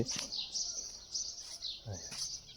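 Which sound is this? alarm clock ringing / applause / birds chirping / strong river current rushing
birds chirping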